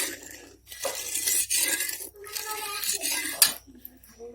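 Rice flour is stirred into milk in a pot, a spoon scraping and clinking against the metal in uneven bursts separated by short pauses, close and fairly loud, with one sharp clink partway through.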